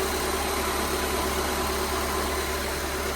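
Honda EK hatchback engine idling: a steady, even low rumble with a constant hum, close by and uninterrupted for a few seconds.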